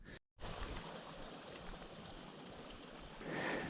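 A mountain river flowing beside a winter hiking trail in the Pyrenees, a steady rushing wash after a brief dropout, swelling slightly louder toward the end.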